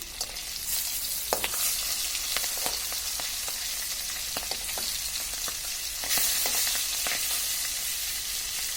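Medium-sized hilsa fish shallow-frying in hot oil for a mustard hilsa dish, a steady close sizzle with scattered sharp crackles and spatter pops, and a brief louder flare of sizzling partway through.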